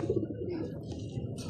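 A racing pigeon coos softly on a loft roof, a few low, throaty coo notes close by, followed by faint rustling and light chirps.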